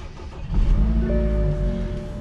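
A 2016 salvage-auction car engine cranks and catches, then settles into a steady, loud idle with a firm low rumble close by.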